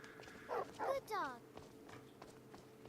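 A dog in a stealth video game gives a few sharp barks close together near the start, then a falling whimper-like yelp, over faint game ambience and footsteps.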